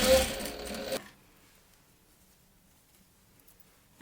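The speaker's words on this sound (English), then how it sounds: "then top stitch around the entire keychain rectangle" A domestic sewing machine top stitching around a fabric keychain strap, running in a fast, steady whir for about a second before it stops and near silence follows.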